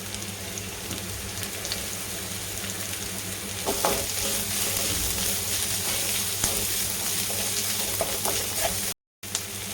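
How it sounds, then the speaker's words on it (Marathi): Onion, carrot and capsicum sautéing in a pan for Manchurian give a steady close sizzle with faint stirring scrapes, running without pause apart from a brief dropout near the end. "कांदा पण आपण छान असा परतून घेऊ. त्यामध्ये टाकू आपण गाजर आणि शिमला मिरची."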